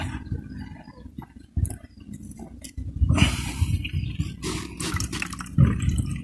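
Water trickling and dripping as it drains out during the making of an organic pesticide, faint at first, then louder splashing and clinking near the container in uneven bursts.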